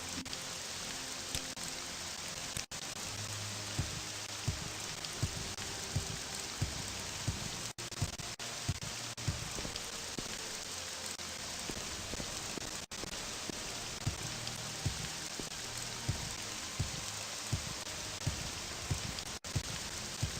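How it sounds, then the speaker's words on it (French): Steady rain from the video game Morrowind, a continuous even hiss of falling drops with faint pattering, moderately quiet and unbroken throughout, with no talking. "Ah, il pleut."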